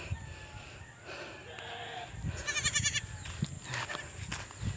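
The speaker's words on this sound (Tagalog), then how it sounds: "Ibang kambing natin nakawala." Goats roaming loose on a farm give a few bleats against a background of outdoor ambience and light rustling.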